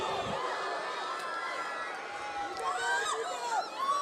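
Students at an Andhra University speech gathering keep up a steady, dense roar of cheering and shouting, with excited cries rising near the end and a voice speaking beneath the din.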